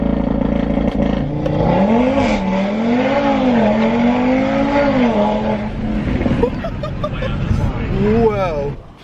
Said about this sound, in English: we just did a draggy 0 to 60 mile an hour time